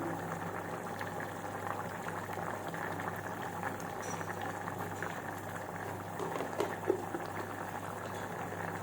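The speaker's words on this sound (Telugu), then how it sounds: "పప్పు మంచిగా ఉడుకుతుంది టమాటా పప్పు" Tomato dal bubbling steadily in a pot, a dense continuous simmer of popping and gurgling bubbles heard up close at an even level throughout.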